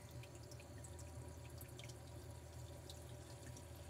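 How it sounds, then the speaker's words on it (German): Water trickles and splashes steadily over a pond filter shaft, a faint, even babble close to the microphone with no gaps and no voices. "Das Einzige, was ihr da hört, ist das Plätschern von dem Wasser, was hier über den Schacht drüber geht."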